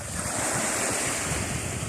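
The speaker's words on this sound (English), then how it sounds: "Sunset dip in the Pacific Ocean with his owner, Jimmy." Pacific Ocean surf at a sunset beach, a dense, steady wash of breaking waves mixed with gusty wind buffeting the microphone, loud and close throughout.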